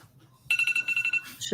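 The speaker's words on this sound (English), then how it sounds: "I had an alarm set." A phone alarm suddenly starts ringing, a loud repeating electronic tone pulsing about ten times in quick succession, while a voice talks faintly underneath before and during it.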